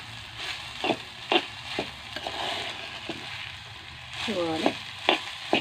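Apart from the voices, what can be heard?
okra being stirred and fried in a pan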